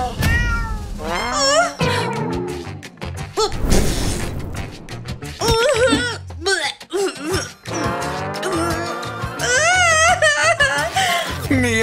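A cat meows repeatedly in a spacious home, the calls loud and close with rising and falling pitch, and they mix with excited voices and laughter.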